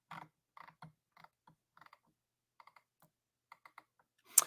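Computer mouse and keys clicked in a quiet room, a dozen or so short, soft, close clicks in irregular clusters, followed by a slightly louder rustle at the end.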